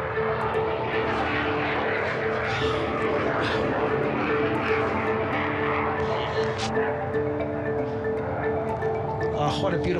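The XB-1 supersonic test airliner in flight, a steady dense engine roar heard continuously from inside the cockpit or close by, with faint voices mixed in.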